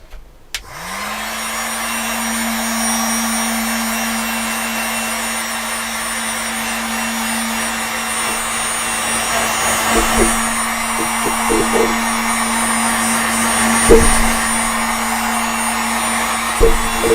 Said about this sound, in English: Let's get my heat gun at the ready, so I apologise, it's going to make a noise.